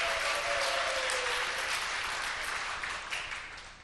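Audience applause in a church gathering, a fairly full, even patter of clapping that holds steady and then tapers off toward the end, moderately loud with a faint tonal voice briefly under it.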